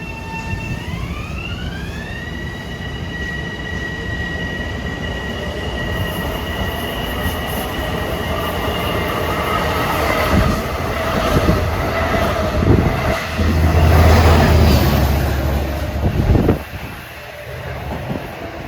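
A Long Island Rail Road train, number 555 running west from Oyster Bay to Jamaica, rushes past on triple track, with a rising horn-like tone early, steady wheel roar building louder, and squealing wheels near the end.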